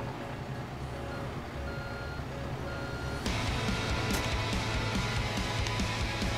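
Steady electronic reversing beeps from a truck in Construction Simulator 3 during a pipe-laying job, repeating in an even rhythm over engine hum, growing louder partway through, with no talk.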